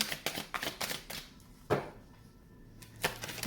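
Brisk riffling and snapping of a tarot card deck, a quick burst of flicks followed by a sharp tap and a brief pause, then another soft snap.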